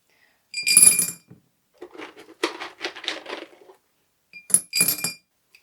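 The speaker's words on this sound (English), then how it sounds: "I'm going to fill my vase about halfway with my little rocks" Small rocks poured into a glass vase, giving bright clinking and rattling bursts: a loud pour at the start, a longer scattered run of clinks in the middle, and two more short pours near the end.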